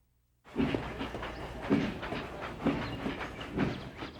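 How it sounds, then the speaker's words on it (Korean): A train rolls along the rails with a steady, regular clickety-clack of wheels over rail joints, heard alone at moderate volume after a brief silence. "모네는 다시 기차를 타고 르아브르로 갔습니다"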